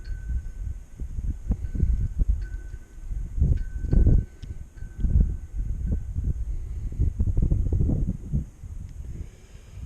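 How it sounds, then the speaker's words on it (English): Strong west wind buffeting a small camera drone over an orchard, a low rumbling gusty roar that swells and dips continuously with a faint high whine from the craft. "There's a strong wind coming out of the west."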